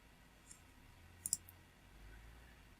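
A computer mouse clicking a save button, a quick faint double click in an otherwise quiet room with soft background hum.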